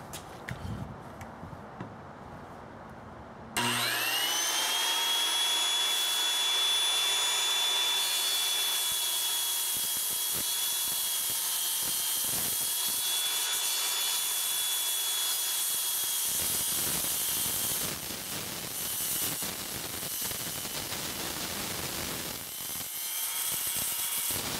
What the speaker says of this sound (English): So this is the cutout that I'm gonna have, and we'll use the circular saw for that.